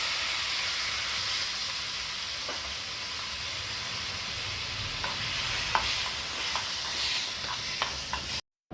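Ripe chopped tomatoes with mustard seeds sizzle in a little oil in a pan, a steady hiss of frying with occasional scraping stirs, close and moderately loud, ending in brief silence.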